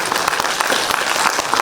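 Audience at a council debate on small business support applauds a council member, a continuous patter of many hands clapping at moderate loudness throughout the brief stretch.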